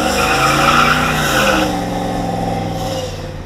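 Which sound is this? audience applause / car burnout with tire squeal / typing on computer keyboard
car burnout with tire squeal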